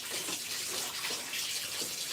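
Cold water pours and splashes in a bathtub as clothes are rinsed, a continuous close-up rush of running water with faint sloshing and no voices.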